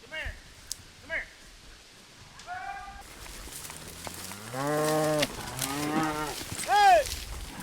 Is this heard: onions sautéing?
no